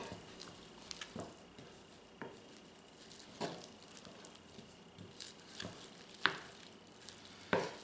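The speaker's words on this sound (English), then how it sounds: "I want to give this a quick mix" Corn fritter batter being mixed with chopped parsley, heard as scattered soft scrapes and utensil clicks against a bowl, with a sharper knock partway through and quiet gaps between strokes, and no one talking.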